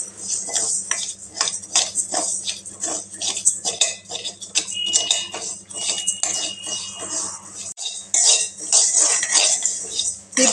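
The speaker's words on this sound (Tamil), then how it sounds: "பாசி பருப்பு போட்டு இது பொன்னிறமாக வறுத்து எடுத்துக்கலாங்க சாம்பாருக்கு" Moong dal roasting dry in a pan on a stove, with repeated light scraping and clinking of a spoon against the metal in an irregular rhythm, close and clear with no talk.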